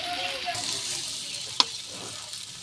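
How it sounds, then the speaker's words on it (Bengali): Kuchia eel fish bhuna cooking with spices, giving a steady close sizzle and frying hiss with a brief sharp clatter partway through, no talking. "আমাদের কুচিয়া মাছ রান্না হয়ে গেছে, কত সুন্দর ভুনা ভুনা হচ্ছে দেখেন"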